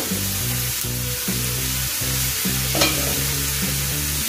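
Potato and bitter gourd frying in a pan, stirred in a steady, repeated rhythm with low scraping and clattering strokes over a constant sizzle.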